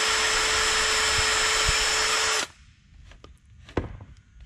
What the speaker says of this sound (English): we always pre-drill so we don't tear up the form and blow it out